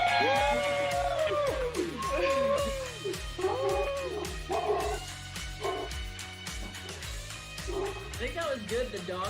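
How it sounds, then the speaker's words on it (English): A dog barking repeatedly in sharp, rhythmic bursts at a nighttime charity ride celebration, loud and close amid crowd noise and voices talking. "I think that was good, the dog barking."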